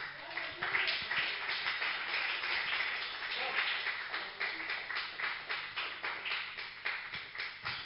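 A church congregation at a gathering in Uganda claps hands in praise, a dense rhythmic patter of many hands filling the space, steady and fairly loud throughout with a brief livelier burst near the start.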